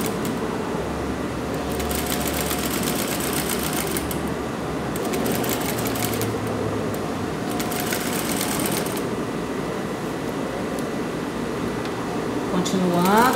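Domestic sewing machine stitching an invisible zipper onto fabric, a steady close whirring hum throughout with brief rattling bursts, with talking over it.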